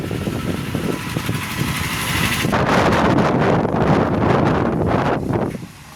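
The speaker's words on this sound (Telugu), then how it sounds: "గాలి వాన అండి మాకైతే చూడండి విపరీతంగా చెట్లు అయితే ఊగిపోతున్నాయి" Strong wind roars and buffets the microphone in heavy gusts with a dense rushing hiss of rain, trees swaying hard, easing off at the very end.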